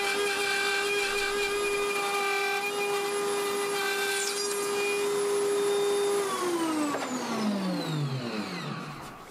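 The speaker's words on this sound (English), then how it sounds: "And then I can nibble away at the notches." A router nibbles notches into a wooden shelf pin jig, its loud, steady high-pitched whine running near the mic before the motor switches off and winds down in a falling tone.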